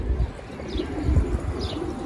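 Pigeons coo softly in a loft over a low rumble of background noise, with a couple of faint higher chirps, and no one speaks.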